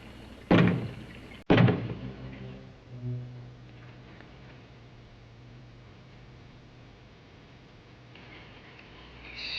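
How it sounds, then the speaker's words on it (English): Two sharp, loud knocks land about a second apart, close and percussive, followed by a low hum and quiet room tone, from a 1962 horror film. "Knock twice if I'm not the first"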